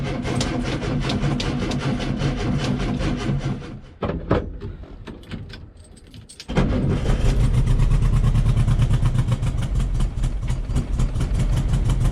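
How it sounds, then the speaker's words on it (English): An old Volkswagen Beetle engine runs, fades away to near silence as it cranks, then catches and settles into a loud, close, steady idle. "Let's see if it cranks now."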